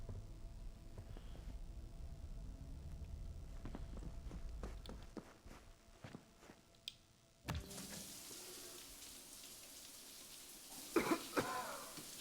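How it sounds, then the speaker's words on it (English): Character V in the Cyberpunk 2077 video game coughs and clears the throat, faint and intermittent over a soft background, with footstep-like thumps and a few louder bursts toward the end. "Coughing! Wheezing! I hate that."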